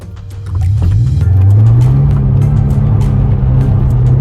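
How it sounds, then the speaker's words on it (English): Toyota GT86 drifting through donuts and handbrake turns, its engine rising into a sustained steady drone after a brief quiet start, loud and close with no talking. "We're all here doing some drifties, some donuts, some handbrake turns."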